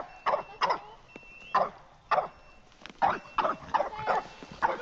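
A dog barks repeatedly outdoors near a horse rider, sharp yaps in uneven bursts, loud and close, with faint voices in between.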